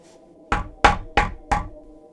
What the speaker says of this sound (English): if it hadn't been for the rather loud knocking on my front door